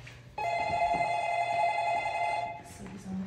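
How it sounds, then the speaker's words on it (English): A telephone rings in a mansion office, a sustained electronic warbling bell tone lasting a couple of seconds, clear and fairly close, then cutting off. "Somebody's on the phone."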